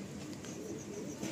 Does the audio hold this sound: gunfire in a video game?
no